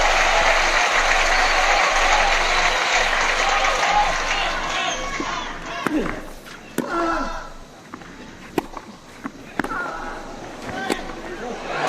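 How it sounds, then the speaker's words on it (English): Crowd applause at the 2006 French Open men's final between Nadal and Federer, a loud sustained roar of clapping that fades after several seconds into scattered claps and murmurs. "Tony Nadal applauding one of Federer's best shots"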